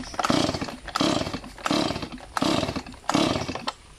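Chainsaw engine after maintenance, repeatedly sputtering to life in short roaring bursts, about five loud pulls in a row with brief gaps between, close by.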